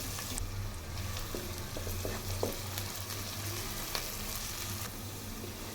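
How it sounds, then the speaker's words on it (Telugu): Thinly sliced onions fry in oil in a kadai, giving a steady, dense sizzle with a few soft stirring clinks, close and continuous. "సన్నగా తరిగి పెట్టిన ఉల్లిపాయ ముక్కలను ఆయిల్లో వేసి వేయించుకోవాలి"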